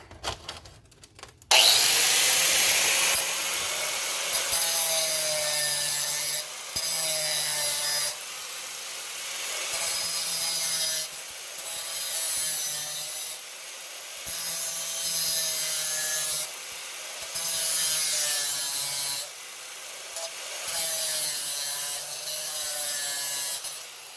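Rhythmic hand sawing, long rasping strokes repeating steadily with short pauses between bursts, close and loud, while making a custom muffler for a vintage Jonsereds 751 chainsaw.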